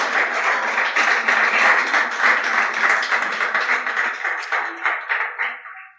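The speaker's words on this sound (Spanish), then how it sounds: "¿Cuántos aplauden a Dios?" A church congregation claps together in a dense, even burst of applause that holds steady, then thins out and fades away at the end.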